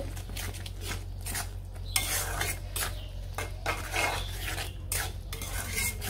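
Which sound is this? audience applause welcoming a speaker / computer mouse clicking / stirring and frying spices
stirring and frying spices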